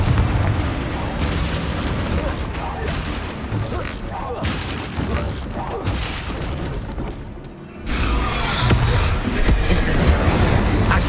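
Repeated Confringo fireball blasts from spellcasting in the Hogwarts Legacy game, a dense run of booming explosive bursts over about eleven seconds, loud and continuous, with a brief dip before a louder stretch of blasts; no talking.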